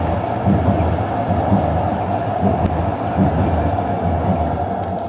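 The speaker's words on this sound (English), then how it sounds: "We got a C train here." A C-Train light rail train rolls through downtown Calgary in winter, a loud, continuous rumble of wheels and motors close by throughout, with no talking.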